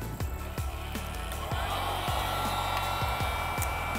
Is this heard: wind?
no